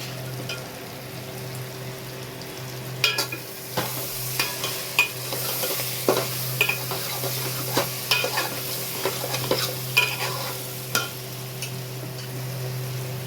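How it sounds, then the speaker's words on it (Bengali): Meat stir-fries with turmeric in a pan, a steady sizzle underneath as a spatula scrapes and knocks against the metal in irregular strokes, close and fairly loud, with no talking. "কষা হবে ভালো করে। এই যে এবারে হলুদ দিচ্ছি।"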